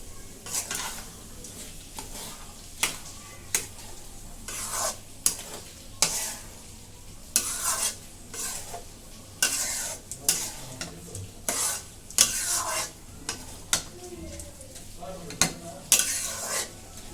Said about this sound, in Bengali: মশলাটা খুব সুন্দর করে কষিয়ে নেব আমি হলুদ লবণও দিয়ে দিয়েছি এবার চালটা দিয়ে দেবো